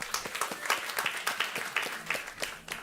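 An audience at a health and food panel event gives a panelist, a physician and chef, a round of applause: dense, steady clapping from a room of people, moderately loud throughout.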